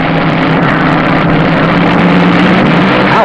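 Top Fuel dragsters in the final at the 1972 NHRA World Finals at Amarillo Dragway, their engines a loud, sustained, raw roar filling the whole stretch without letup, close and harsh with no speech.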